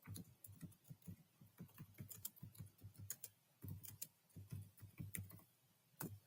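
Keys clatter steadily on a computer keyboard, an uneven run of soft close clicks and taps in short bursts with brief pauses, alone with no voices.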